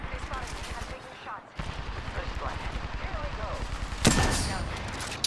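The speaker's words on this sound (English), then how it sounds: "The enemies are shooting at me." Rapid enemy gunfire from a first-person shooter video game, a dense stream of repeated shots with a sharp louder burst near the end, heard alongside game sounds and under speech.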